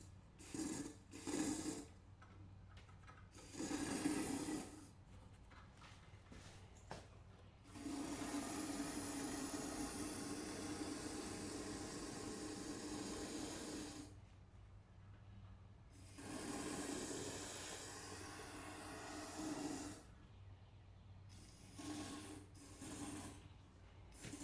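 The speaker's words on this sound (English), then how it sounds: "I'll show you guys how it sprays" Raptor bed liner sprays from an aerosol can through a wand, in several sustained hissing bursts of a few seconds each, separated by quieter gaps and softer rattling handling noises.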